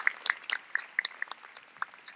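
A convocation audience claps for a trustee and alumna, sparse close-by hand claps and bursts in an irregular patter, fairly quiet and with no talk.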